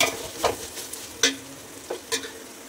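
Ginger garlic paste stirred as it fries in a pot: a soft background sizzle broken by several scraping spoon strokes at uneven intervals, close and fairly quiet.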